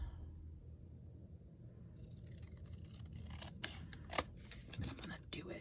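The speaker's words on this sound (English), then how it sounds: "I'm gonna trim this right around the edges of that corner" Scissors trim the edges of a paper craft piece close by, giving a series of faint snipping cuts over a low background rumble, with soft speech in places.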